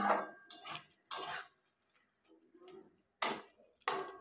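A utensil stirs bottle gourd and prawn curry in a metal pan, making several sharp clinks and scrapes in irregular bursts with quiet gaps between them. The strokes are close and fairly clear, with no talking.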